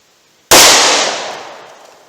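A single gunshot from a .38 Special revolver fired single action with Underwood Xtreme Defender +P ammunition: one sharp, loud crack that cuts in suddenly from silence and rings out in a decaying tail, with no talking.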